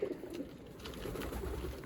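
Pigeons cooing softly in a loft near the end of their moult, low murmuring calls repeating over a steady faint background hum.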